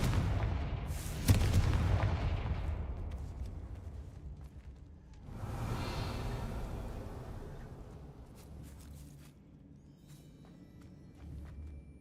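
The Confringo blasting spell in the Hogwarts Legacy video game goes off with a loud, booming explosion, followed a few seconds later by a second rumbling blast that slowly fades, with no talk over it.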